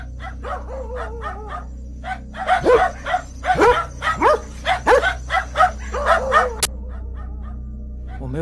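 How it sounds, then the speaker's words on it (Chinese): Two dogs in Costa Rica barking frantically at something, a rapid run of close, loud barks, yips and whimpers that builds into a frenzied burst before easing off. "有2只狗狗疯狂地对着一个东西在叫。"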